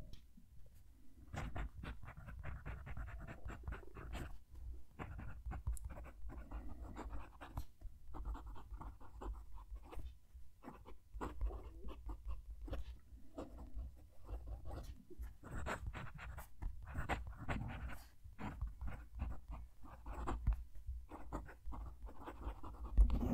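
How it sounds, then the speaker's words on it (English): A Jinhao fountain pen writes on paper right beside the mic, making soft, continuous scratchy nib strokes with short pauses between words, quiet and close, no talking. "Going to move the mic down to the page so you can hear the pen write."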